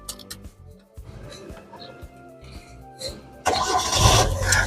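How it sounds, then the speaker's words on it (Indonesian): A manual-transmission car, shifted into neutral, cranks briefly and then fires up into a loud, rough, steady engine roar that continues to the end. "Sekarang kita coba nyalakan mobil."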